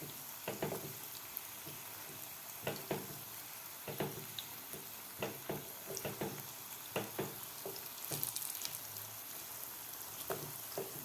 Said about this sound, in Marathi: दुसरी बाजू सुद्धा आपल्याला व्यवस्थित फ्राय करून घ्यायची आहे